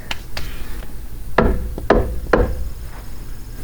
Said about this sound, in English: So I'm gonna go grab a hammer quick.